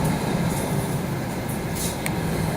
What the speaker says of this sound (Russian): Так вот выглядит электричка.